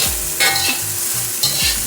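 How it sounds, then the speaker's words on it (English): Carrots being stir-fried with rice for Yangzhou fried rice, a loud close sizzle with repeated scraping strokes of a spatula in the pan at a steady rhythm, with no voices. "I'm gonna add in my carrots now."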